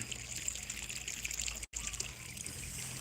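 Water trickles steadily from a one-inch outlet pipe of a solar-powered pump in a backyard farm, a continuous soft splashing flow with a brief dropout midway.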